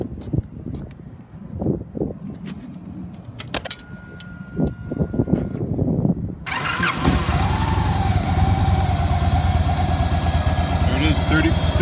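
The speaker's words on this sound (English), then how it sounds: "Let me crank it up." A 2016 Victory Magnum motorcycle engine cranks and catches after several seconds of clunks and handling noises, then settles into a loud, steady idle that continues to the end.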